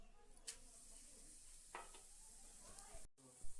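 Garam masala, cinnamon and cloves tempering in hot oil for a prawn malai curry, a faint steady sizzle with occasional scrapes and clinks from the pan, quiet and close.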